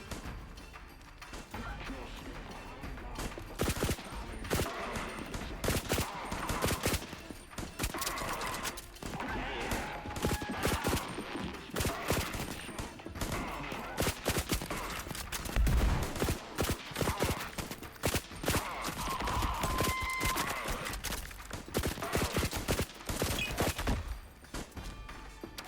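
A mega gun in the game Verho fires in dense, rapid bursts throughout, loud and near, with sharp cracking shots clustered in long volleys over a busy game background.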